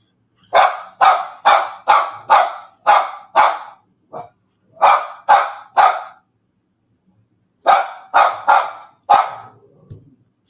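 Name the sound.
dog barking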